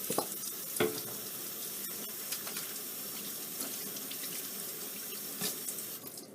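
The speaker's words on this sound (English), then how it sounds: "So I'll wash my hands there." Water runs steadily from a tap, splashing and hissing as hands move under it, with a few brief knocks and clunks.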